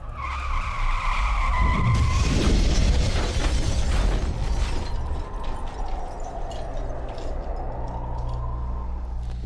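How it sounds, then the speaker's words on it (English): A car at high speed lets out a rising tire squeal that builds into a loud skid, then a crashing burst and scattered debris noise, before a lower engine drone carries on. "Accelerating car to a high speed."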